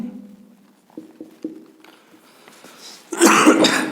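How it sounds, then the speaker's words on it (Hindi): A few short coughs in a quick sequence, close and moderately loud, followed by a louder burst of rustling noise. "वीडियो बनाना शुरू किया तुरंत खांसी भी शुरू हो गई"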